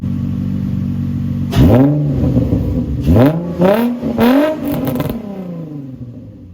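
A Nissan 350Z engine fitted with test pipes idles loudly, then revs hard in three sharp bursts, its roar climbing and falling each time.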